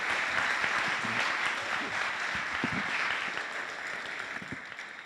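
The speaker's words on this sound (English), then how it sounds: "So how about a big round of applause for Matt Wade for making this event happen." Sustained audience applause at a university entrepreneurship competition, a dense crowd clapping steadily and loudly for the full stretch, easing slightly toward the end.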